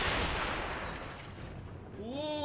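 Mortar and cannon fire in Assassin's Creed Rogue, a loud close blast whose roar fades over two seconds, followed by a short tonal in-game sound.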